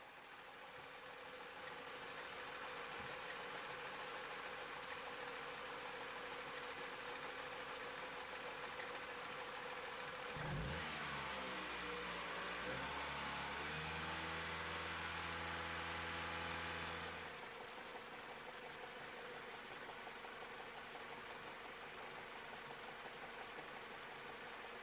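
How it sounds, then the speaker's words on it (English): A car engine idles roughly while warming up, a steady low hum with uneven knocking; midway a stretch of rising and falling mechanical tone rides over it before the plain idle returns. "you can definitely feel that it's running a bit rough"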